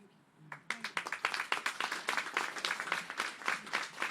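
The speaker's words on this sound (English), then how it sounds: "A round of applause." Audience applause at an indigenous peacebuilding summit session, a dense burst of hand clapping that starts after a brief pause and continues steadily, fairly close.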